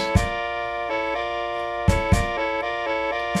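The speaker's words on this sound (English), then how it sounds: "and the alto sounds like this." An alto saxophone holds long sustained low notes in a slow melodic line, with sharp percussive hits punctuating it a few times; no voices.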